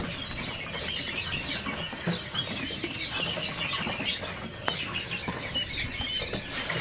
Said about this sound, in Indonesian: Di kios ini ada burung perinjak lumut ya.